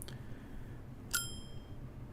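A video game bell chimes twice on screen, a faint short ding near the start and then a louder, ringing strike about a second later that decays with bright sustained overtones.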